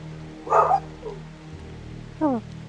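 A dog barks twice, a short sharp bark followed after a pause by a second rising yip, over a low steady background hum.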